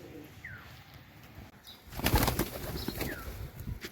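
Pigeon wings flap in a burst of rustling beats near a large loft pigeon, louder in the second half of the clip, with soft background noise and no talk.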